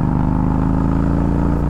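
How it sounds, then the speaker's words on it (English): A Yamaha V Star 1300 V-twin motorcycle engine runs loud and close, holding a steady, throbbing high-revving drone for the whole stretch with no voices. "This motor really doesn't mind being revved out a little bit."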